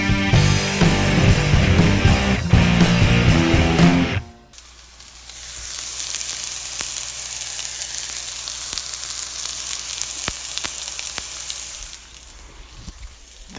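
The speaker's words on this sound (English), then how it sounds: "That's the high sound of a hot pan. That pitch, that high pitch." Food sizzles in a hot pan, a loud music passage cutting off into a steady, high hiss of frying with a few sharp crackles, close and continuous with no talking.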